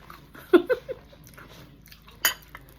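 Biting into a crispy Ilocos empanada gives two or three sharp, close crunches in quick succession, then a brief louder crackle a moment later, with light chewing noises in between and no voice.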